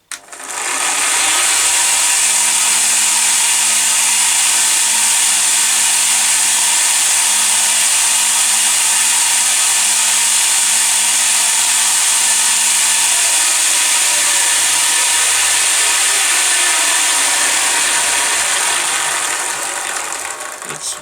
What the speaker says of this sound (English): You can see there the tracking is off and it's just throwing the belt.